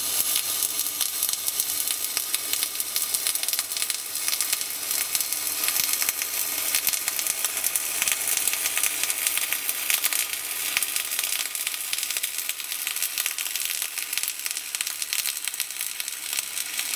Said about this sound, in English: and then I'm gonna weld out